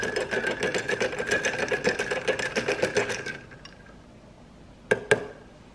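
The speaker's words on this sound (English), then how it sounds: "Give it a stir." A spoon stirs a White Russian of vodka, Kahlua and half and half in a glass, giving fast rhythmic close clinking for about three seconds, then quiet, then two separate sharp clinks near the end.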